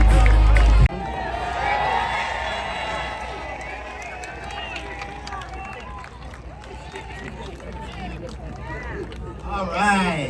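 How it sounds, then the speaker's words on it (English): A large outdoor political rally crowd in Butler, Pennsylvania roars with cheering and applause after a sharp opening burst, a dense sustained wash of voices and claps that swells again near the end, with talk mixed in. "So would you please give a very, very warm welcome"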